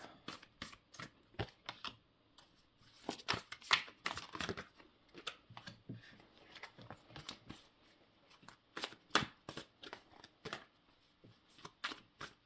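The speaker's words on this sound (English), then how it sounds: "I really struggle to shuffle it like normal cards." Tarot cards are shuffled by hand in bursts of quick riffling clicks and slaps, close to the microphone, with brief quiet pauses between.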